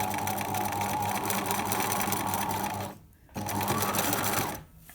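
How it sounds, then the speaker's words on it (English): A sewing machine lock-stitches the lining of a pencil case, a close rapid mechanical whirr that runs, stops briefly, resumes, then cuts off again. "A little bit of lock stitching."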